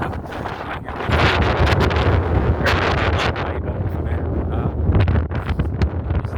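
Strong gusty wind buffets the microphone with a loud, continuous roar that surges and eases.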